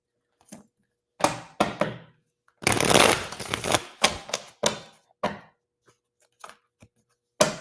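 Tarot cards being shuffled by hand close up, short papery riffles and flicks in bursts separated by silence, one longer riffle in the middle, with soft taps as the deck is squared.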